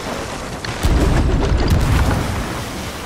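Ship cannons firing in the pirate game Sea of Thieves, a loud deep boom with a rumbling tail over steady ocean ambience, no talk.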